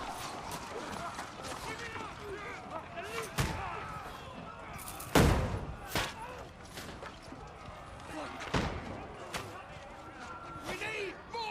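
Hand cannons in Kingdom Come Deliverance 2 boom as several separate heavy blasts spaced a few seconds apart, one especially loud, over a busy battle din with shouting voices throughout.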